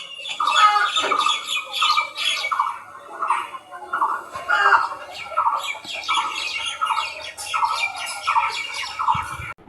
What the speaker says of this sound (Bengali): পাখিদের সাউন্ড শুনছেন?